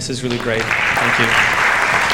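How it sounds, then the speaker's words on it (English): A panel event audience applauds the panelists, steady broadband clapping that swells and holds throughout, while a voice speaks briefly over the start. "one more round of applause for our panelists"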